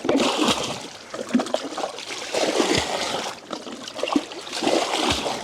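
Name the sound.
bailing water out of a boat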